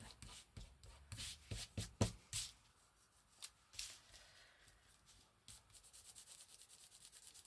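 A fingernail rubs excess glue off paper in a crafting project, making a series of soft, dry scratching strokes close by, irregular at first, then a faster rubbing run at the end.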